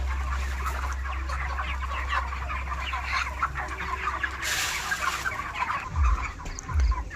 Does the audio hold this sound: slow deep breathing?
no